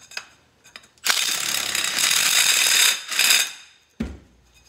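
A Milwaukee Shockwave impact driver with a reaming bit holder deburring the cut end of a conduit, loud whirring bursts of about two seconds and half a second, with brief clicks before and a thud after.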